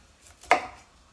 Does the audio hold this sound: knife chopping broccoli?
yes